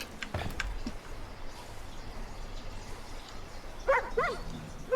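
A dog in the video game Far Cry 5 barks and yips over a steady outdoor game ambience, a brief yelp early on and a louder cluster of barks near the end.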